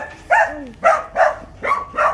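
Several dogs at a shelter bark and whimper up close, five loud yelping barks in quick uneven succession, one with a rising whine between them.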